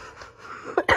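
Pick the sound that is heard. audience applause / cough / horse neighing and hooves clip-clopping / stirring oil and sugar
cough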